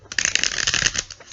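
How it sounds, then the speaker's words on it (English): A deck of tarot cards is shuffled close up, a quick, crisp riffling flutter of cards lasting about a second, with no talking. "I am going to shuffle with your energies in mind."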